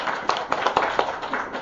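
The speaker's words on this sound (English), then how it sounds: "Give yourselves a big round of applause" A group of children at a storytelling session claps in a short burst of uneven, scattered claps, close and moderately loud, lasting under two seconds.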